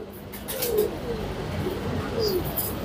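Soft, low pigeon coos repeat a few times over a steady background hum, with faint chirps of other birds nearby.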